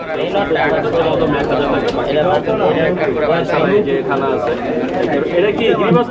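Pigeons coo and flutter amid steady crowd chatter at the Sarulia pigeon market in Bangladesh, with the birds close and people talking throughout.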